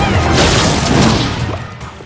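A mortar in a video game fires and smashes into buildings, giving a loud, close crash that rings and decays over about two seconds with no talk.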